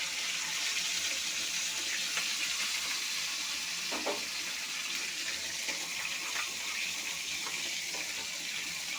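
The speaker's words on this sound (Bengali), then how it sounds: "এখন একটু জল দিয়ে দেব।" Water poured into a pan holding cumin paste, ginger paste and spices, a steady hissing sizzle and bubbling with a few faint clinks as the liquid hits the hot mixture.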